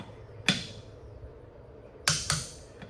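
A torque wrench clicks as it reaches its set torque on a bolt of a John Deere 3025 compact tractor during its initial 10-hour service. One sharp click comes first, then a quick pair of clicks a moment later, in a quiet room.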